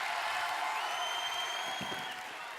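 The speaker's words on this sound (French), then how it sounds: "On l'applaudit aussi" An audience applauds as Michel-Édouard Leclerc comes on stage at an afternoon ceremony, a fairly faint, steady patter of clapping from a distance.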